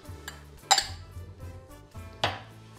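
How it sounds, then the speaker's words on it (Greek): Utensil stirring ingredients together in a bowl, with a few sharp metallic clinks against the side over soft scraping, close and fairly quiet. "και το ανακατεύουμε όλο σχολαστικά για να πάνε όλα τα υλικά που έχουμε βάλει παντού"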